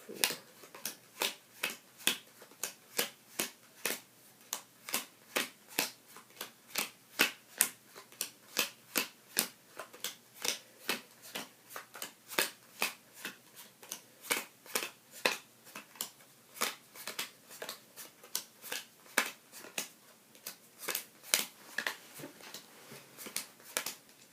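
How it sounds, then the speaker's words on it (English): Playing cards are dealt one by one into four piles for a magic card trick, giving a long, even run of crisp, sharp snaps at a steady rhythm, close and clear with no talk. "now I'm going to deal the cards down to 4 different piles"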